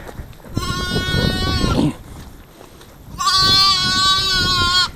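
A lamb bleats loudly up close on a small Welsh sheep farm at lambing time, two long quavering calls separated by a short pause, with faint background noise.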